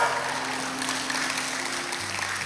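Applause from a church congregation during a sermon, a steady broadband wash of clapping holding at even loudness throughout, with a low sustained hum beneath it.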